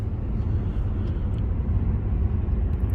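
A £1500 Volvo cruising on the road toward the Channel Tunnel, a steady low engine and road rumble filling the cabin evenly throughout with no break or talk.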